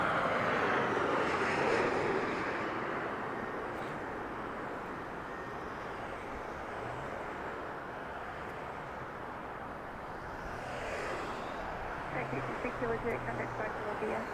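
A Southwest Boeing 737 on a flight to Santa Ana passes at Las Vegas Harry Reid airport, a faint, steady jet rumble that swells at the start and again near the end.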